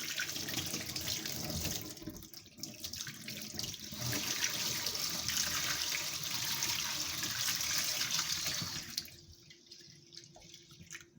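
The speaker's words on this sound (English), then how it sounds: "So I'm going to wash these lemons" Lemons are rinsed under a running kitchen tap, a steady close splash of water into the sink lasting several seconds before the flow cuts off, with no talking.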